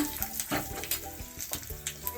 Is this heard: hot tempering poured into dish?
yes